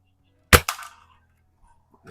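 A Haenel 310 4.4 mm BB gun fires at cans, one sharp close crack followed by a brief metallic ring, then near silence before another sharp onset at the end.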